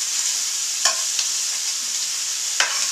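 Pinto beans sautéing in a pan, a continuous close bright sizzle with a few sharp clicks from a utensil and no talking.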